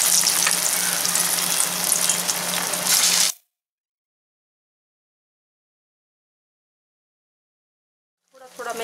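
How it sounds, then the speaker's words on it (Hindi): A snack fries in a pan on low-medium flame with a loud, dense sizzle for about three seconds. Silence follows, then the frying returns briefly at the end. "मैंने लो टू मीडियम फ्लेम को रखा हुआ है और इसे फ्राई करने वाली हूँ"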